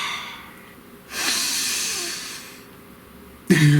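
A single slow, deep breath, drawn close to the microphone, forms a long airy rush lasting over a second, then eases into quiet before a short sharp noise cuts in at the end.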